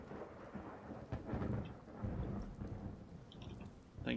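Rain falls steadily in the Skyrim video game while thunder rumbles and cracks several times. The storm is moderately loud and continuous, with no voices.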